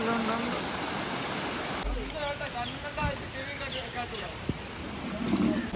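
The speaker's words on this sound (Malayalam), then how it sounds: "ഇവിടെ കുഞ്ഞി വെള്ളച്ചാട്ടം" Steady rushing water from a small waterfall at Ponmudi in the rain fills the clip, a broadband wash with a voice speaking over it and brief knocks near the end.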